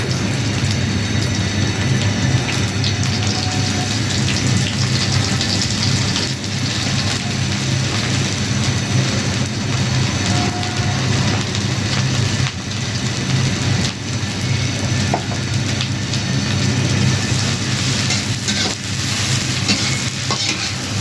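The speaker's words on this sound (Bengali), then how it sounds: "গরম হলে এখন দিয়ে দেবো পেঁয়াজ।" Onions fry in hot mustard oil with a dense, continuous sizzle and frequent stirring scrapes for twenty seconds. A low background rumble runs underneath.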